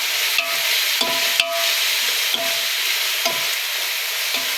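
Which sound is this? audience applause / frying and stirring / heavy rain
frying and stirring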